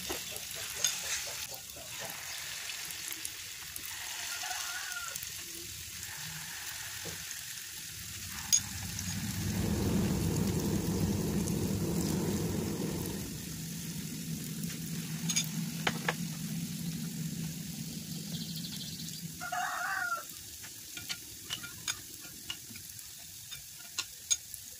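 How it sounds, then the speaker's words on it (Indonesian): Gethuk dough fries in oil in a wok over medium-low heat, a soft continuous sizzle that swells in the middle, with occasional clinks and stirring sounds and no talk. "kita ambil adonannya ini untuk digoreng ke dalam wajan satu persatu."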